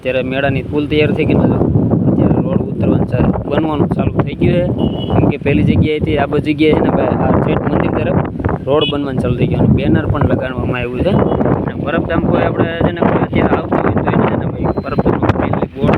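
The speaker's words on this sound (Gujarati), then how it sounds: "પવન બહુ છે એટલે કાંઈ મારો અવાજ ઓછો આવે છે" Strong wind buffets the microphone outdoors at a road being built near a temple fairground, a constant loud rumbling roar that persists beneath someone talking the whole time.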